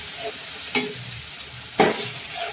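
Ginger, garlic and green chili paste fries with onion in butter, a soft steady sizzle broken by two sharp stirring scrapes, close up with no talking.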